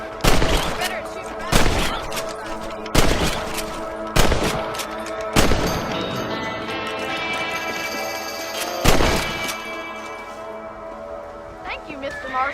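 Rifle shots in the Western video game Red Dead Redemption, six loud cracks at irregular intervals, each followed by a ringing tail, over a music bed.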